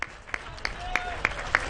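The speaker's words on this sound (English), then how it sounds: "Another round of applause." Scattered, slow applause from prison inmates, a handful of separate sharp claps spaced roughly a third of a second apart over a quiet, hollow room tone.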